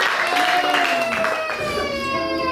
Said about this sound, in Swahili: tuwapigie sana makofi waimbaji wetu, tupigie makofi sisi wenyewe